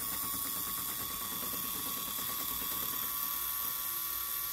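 A large swapped-in motor spins steadily under motor control, giving a continuous whirring drone with high mechanical whine and a faint ratcheting texture, even in level and close.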